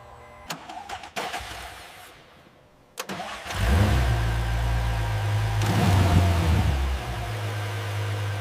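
A Ferrari 488 in a repair workshop cranks and fires up after a fuel prime. A few sharp clicks and a short crank come first, then the engine catches and settles into a loud, steady idle close by.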